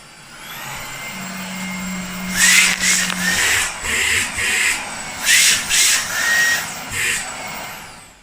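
Dyson V10 and Beko stick vacuum cleaners running side by side, a steady close whine with surging bursts of suction noise as the heads move, no talk.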